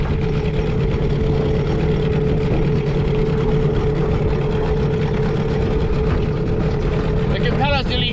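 A motorboat engine drones loud and close as it runs through very shallow coastal water at Shark Bay, its propeller nearly touching the bottom; a steady roar with wind and water wash throughout.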